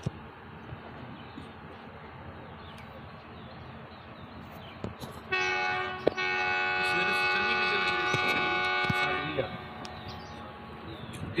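A loud, sustained train horn blares for about four seconds over ambient platform noise before the train's departure, starting and stopping abruptly, on the Thal Express in Pakistan.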